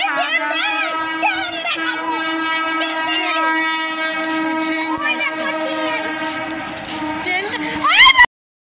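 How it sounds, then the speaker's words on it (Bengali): A passing train with a long, loud horn blast over steady rolling rumble, continuous for several seconds before cutting off abruptly; a train horn sweeps up sharply near the end. "ট্রেন এখনই ট্রেন গেল একটা"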